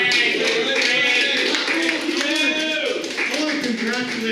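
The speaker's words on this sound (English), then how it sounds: "let's have a big round of applause for Frank." An audience at a breakfast club meeting applauds for Frank, steady, dense clapping that continues throughout while voices talk over it.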